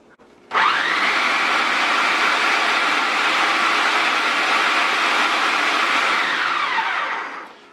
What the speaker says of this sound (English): as we work it in the food processor here